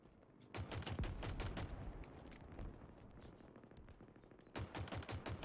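A turret fires in Halo Infinite, long bursts of rapid machine-gun fire with a steady rattling rhythm, a short pause, then another burst, loud and close, with no talking.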